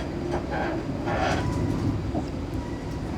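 Inside a moving Class 334 electric train near Glasgow, a continuous low rumble of wheels and carriage comes through, with faint rattles and a soft whine over a steady roar, with no voices.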